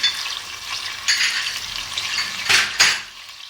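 Turmeric, chili, garam masala and salt being stirred in a pan for turmeric garlic rice, a steady close sizzle with a few louder scraping spoon strokes near the end.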